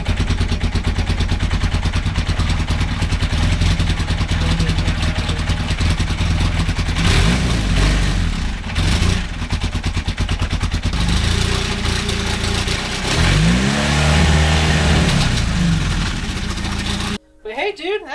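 A vintage Honda or Suzuki motorcycle being tuned at the idle screw runs loud and close with a rough, chattering idle, rises and wavers in a few revving swells near the end, then cuts off abruptly as a voice speaks.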